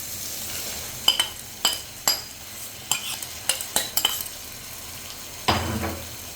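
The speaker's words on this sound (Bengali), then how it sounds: "দিয়ে আমি ভালো করে কষিয়ে নেব" Washed rice and lentils tossed with spices in a hot pan for egg and potato khichuri: a quiet sizzle under a quick run of metal spatula scrapes and clinks against the pan, then a longer scraping stroke.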